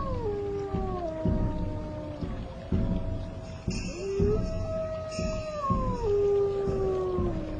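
Wolves howl in a layered chorus, several long, gliding wails overlapping and rising and falling together, close and steady throughout with no talk.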